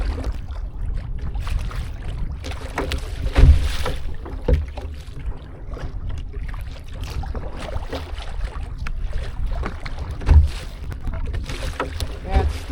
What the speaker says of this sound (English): it's still windy and still wavy out here. A little bit of a swell to it.